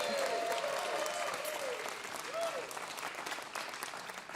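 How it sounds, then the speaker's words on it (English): An audience at the WoodSongs Old Time Radio Hour, a live old-time music broadcast, breaks into dense sustained clapping that starts loud and slowly tapers, with a few faint voices mixed in. "Lots of clapping."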